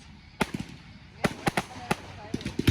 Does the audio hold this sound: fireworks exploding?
yes